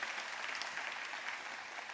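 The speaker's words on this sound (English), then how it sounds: "give you a round of applause" A crowd at a Stark County campus ribbon cutting ceremony applauds board members, a brief, dense patter of many hands that is fairly soft and steady throughout.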